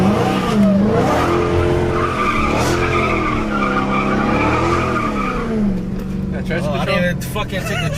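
A Hellcat car sliding with its tires skidding and squealing, a sustained wavering screech over engine roar. Voices talk over the noise throughout.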